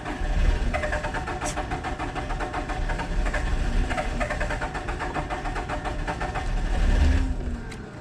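A Komatsu digger's Cummins four-cylinder diesel, which burns some oil and smokes when cold, runs loud and close with a steady idle clatter and a brief rise in revs near the end.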